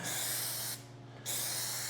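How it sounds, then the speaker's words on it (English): Steady hissing spray from an aerosol can over a 1967 Firebird convertible interior quarter trim panel, continuous and close, with a brief dip in the middle before the spray resumes at full strength. "I'll spray this out"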